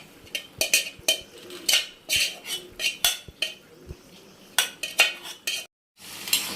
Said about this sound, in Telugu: ఈ విధంగా అయితే చక్కగా మన గ్రేవీని కలుపుకొని పెట్టుకోవాలి.